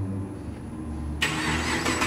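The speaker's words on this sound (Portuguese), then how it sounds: "olha o ronco desse carro, velho" Chevrolet Camaro convertible engine cranking over and then catching with a sudden loud burst, settling into a strong, close idle.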